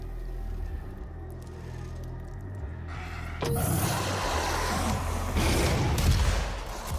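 Rocket launcher blasts in the DOOM video game boom out after a quieter stretch, a heavy explosive burst followed by rumbling, crackling impacts and combat noise.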